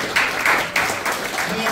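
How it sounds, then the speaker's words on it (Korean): A year-end general meeting and party crowd claps, a brief burst of fairly close applause in uneven surges with voices mixed underneath. "다시 한번 큰 박수 부탁드리겠습니다"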